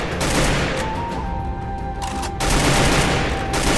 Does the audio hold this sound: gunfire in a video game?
yes